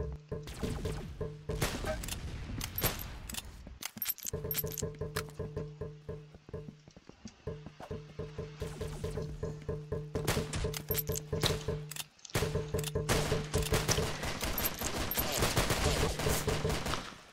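Rapid bursts of gunfire from the Roblox shooter game Arsenal crackle in dense volleys, sharp repeated shots running nearly nonstop over steady game sounds, with only brief gaps between strings of fire.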